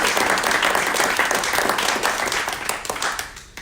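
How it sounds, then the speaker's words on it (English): Audience applause for a presenter at a small-business pitch event, a dense, steady wash of clapping that holds loud for a few seconds before tapering off. "So let's give her a round of applause"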